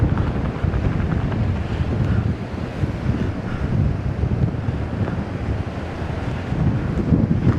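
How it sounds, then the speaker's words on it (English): Strong wind roars across the microphone over the deep, continuous wash of storm waves breaking along the coast at Marsaskala, Malta, during Storm Harry, a dense and unbroken rumble. "And the waves, one bigger than the other it is."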